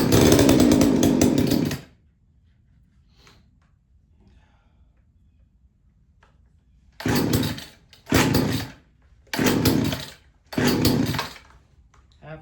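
A pull-started gas chainsaw roars loudly and close for a couple of seconds, then goes quiet. It then fires in four short, sharp revving bursts with pauses in between.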